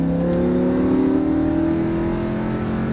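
A Lamborghini Huracan engine on a racing track revs loudly and steadily as the throttle opens, its strained tone climbing slightly and staying close throughout.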